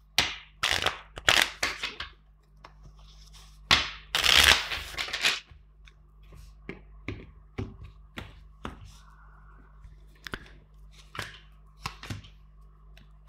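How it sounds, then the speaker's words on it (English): Tarot cards are shuffled close by in crisp, irregular riffling bursts and snaps, with a louder flurry in the middle and scattered softer taps afterward. "let's first shuffle four times the deck"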